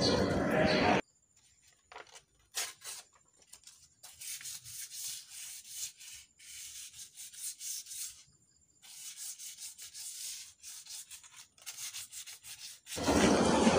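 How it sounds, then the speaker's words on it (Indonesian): Steady back-and-forth scratchy rubbing in long strokes, 1000-grit sandpaper on a 2012 Xenia car brake drum, close up with brief pauses between passes. "Kita bersihkan menggunakan amplas 1000"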